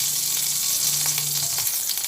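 Whole garam masala and a bay leaf fry together in hot oil in a wok, making a steady, close sizzle and crackle with no voices.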